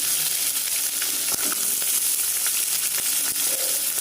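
Curry leaves and green chillies crackle and sizzle in hot oil, a dense continuous spitting hiss with scattered sharp pops, close and fairly loud throughout.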